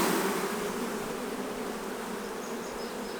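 Honey bees buzz at an open hive, a dense, steady, close swarm hum that holds at even loudness throughout, with no voices over it.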